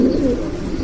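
A pair of large Black Lahori pigeons gives a single short, low coo, close and clear.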